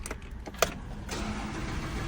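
A Lamborghini cold-started with the start button: a few clicks, then the engine catches with a sharp burst and settles into a steady, loud idle close by.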